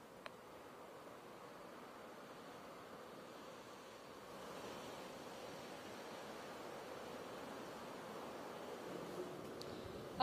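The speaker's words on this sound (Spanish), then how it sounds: "desde el malecón de Santo Domingo, donde el oleaje poco a poco regresa a la normalidad" Ocean surf rolls against the seafront promenade of the malecón in Santo Domingo after a storm, a soft, steady wash of waves with light wind noise, faint and distant throughout.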